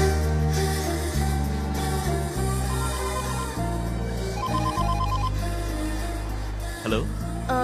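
A mobile phone ringtone sounds in a scene from the film 7th Sense, a steady melodic ring of repeated tones that runs loud and unbroken for several seconds over a low musical backing.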